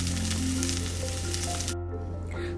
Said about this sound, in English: Saute until you get a wonderful aroma out of these green leaves.